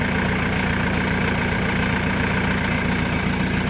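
A Ford Mondeo ST engine idles steadily while the car sits in reverse, a continuous close mechanical hum with a faint high whine above it and no talking.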